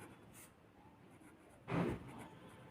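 Pen or pencil writing out a long division problem on paper, a single short scratching burst near the end against a quiet room background.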